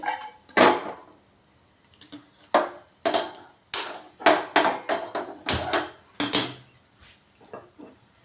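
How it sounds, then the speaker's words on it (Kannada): Lumps of jaggery dropped into a metal vessel in a home kitchen, giving a run of sharp metallic clanks and knocks at an uneven pace, close and fairly loud, with quiet gaps between them. "ಒಂದು ಪಾತ್ರೆಗೆ ಬೆಲ್ಲ ಹಾಕಿರ್ತಾ ಇದ್ದೀನಿ"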